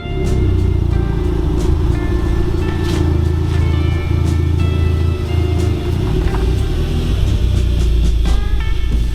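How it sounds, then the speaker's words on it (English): A Volkswagen Golf estate rolls slowly into a garage, its engine a loud steady close rumble heard from inside the car, with minor clunks and small bumps over the top. "I'm going to pull that car in"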